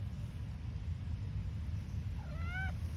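A single short meow from a cat that has become an outdoor cat, faint and somewhat distant over a steady low rumble of background noise.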